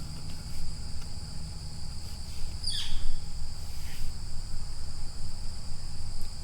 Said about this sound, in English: That was a funny bird noise.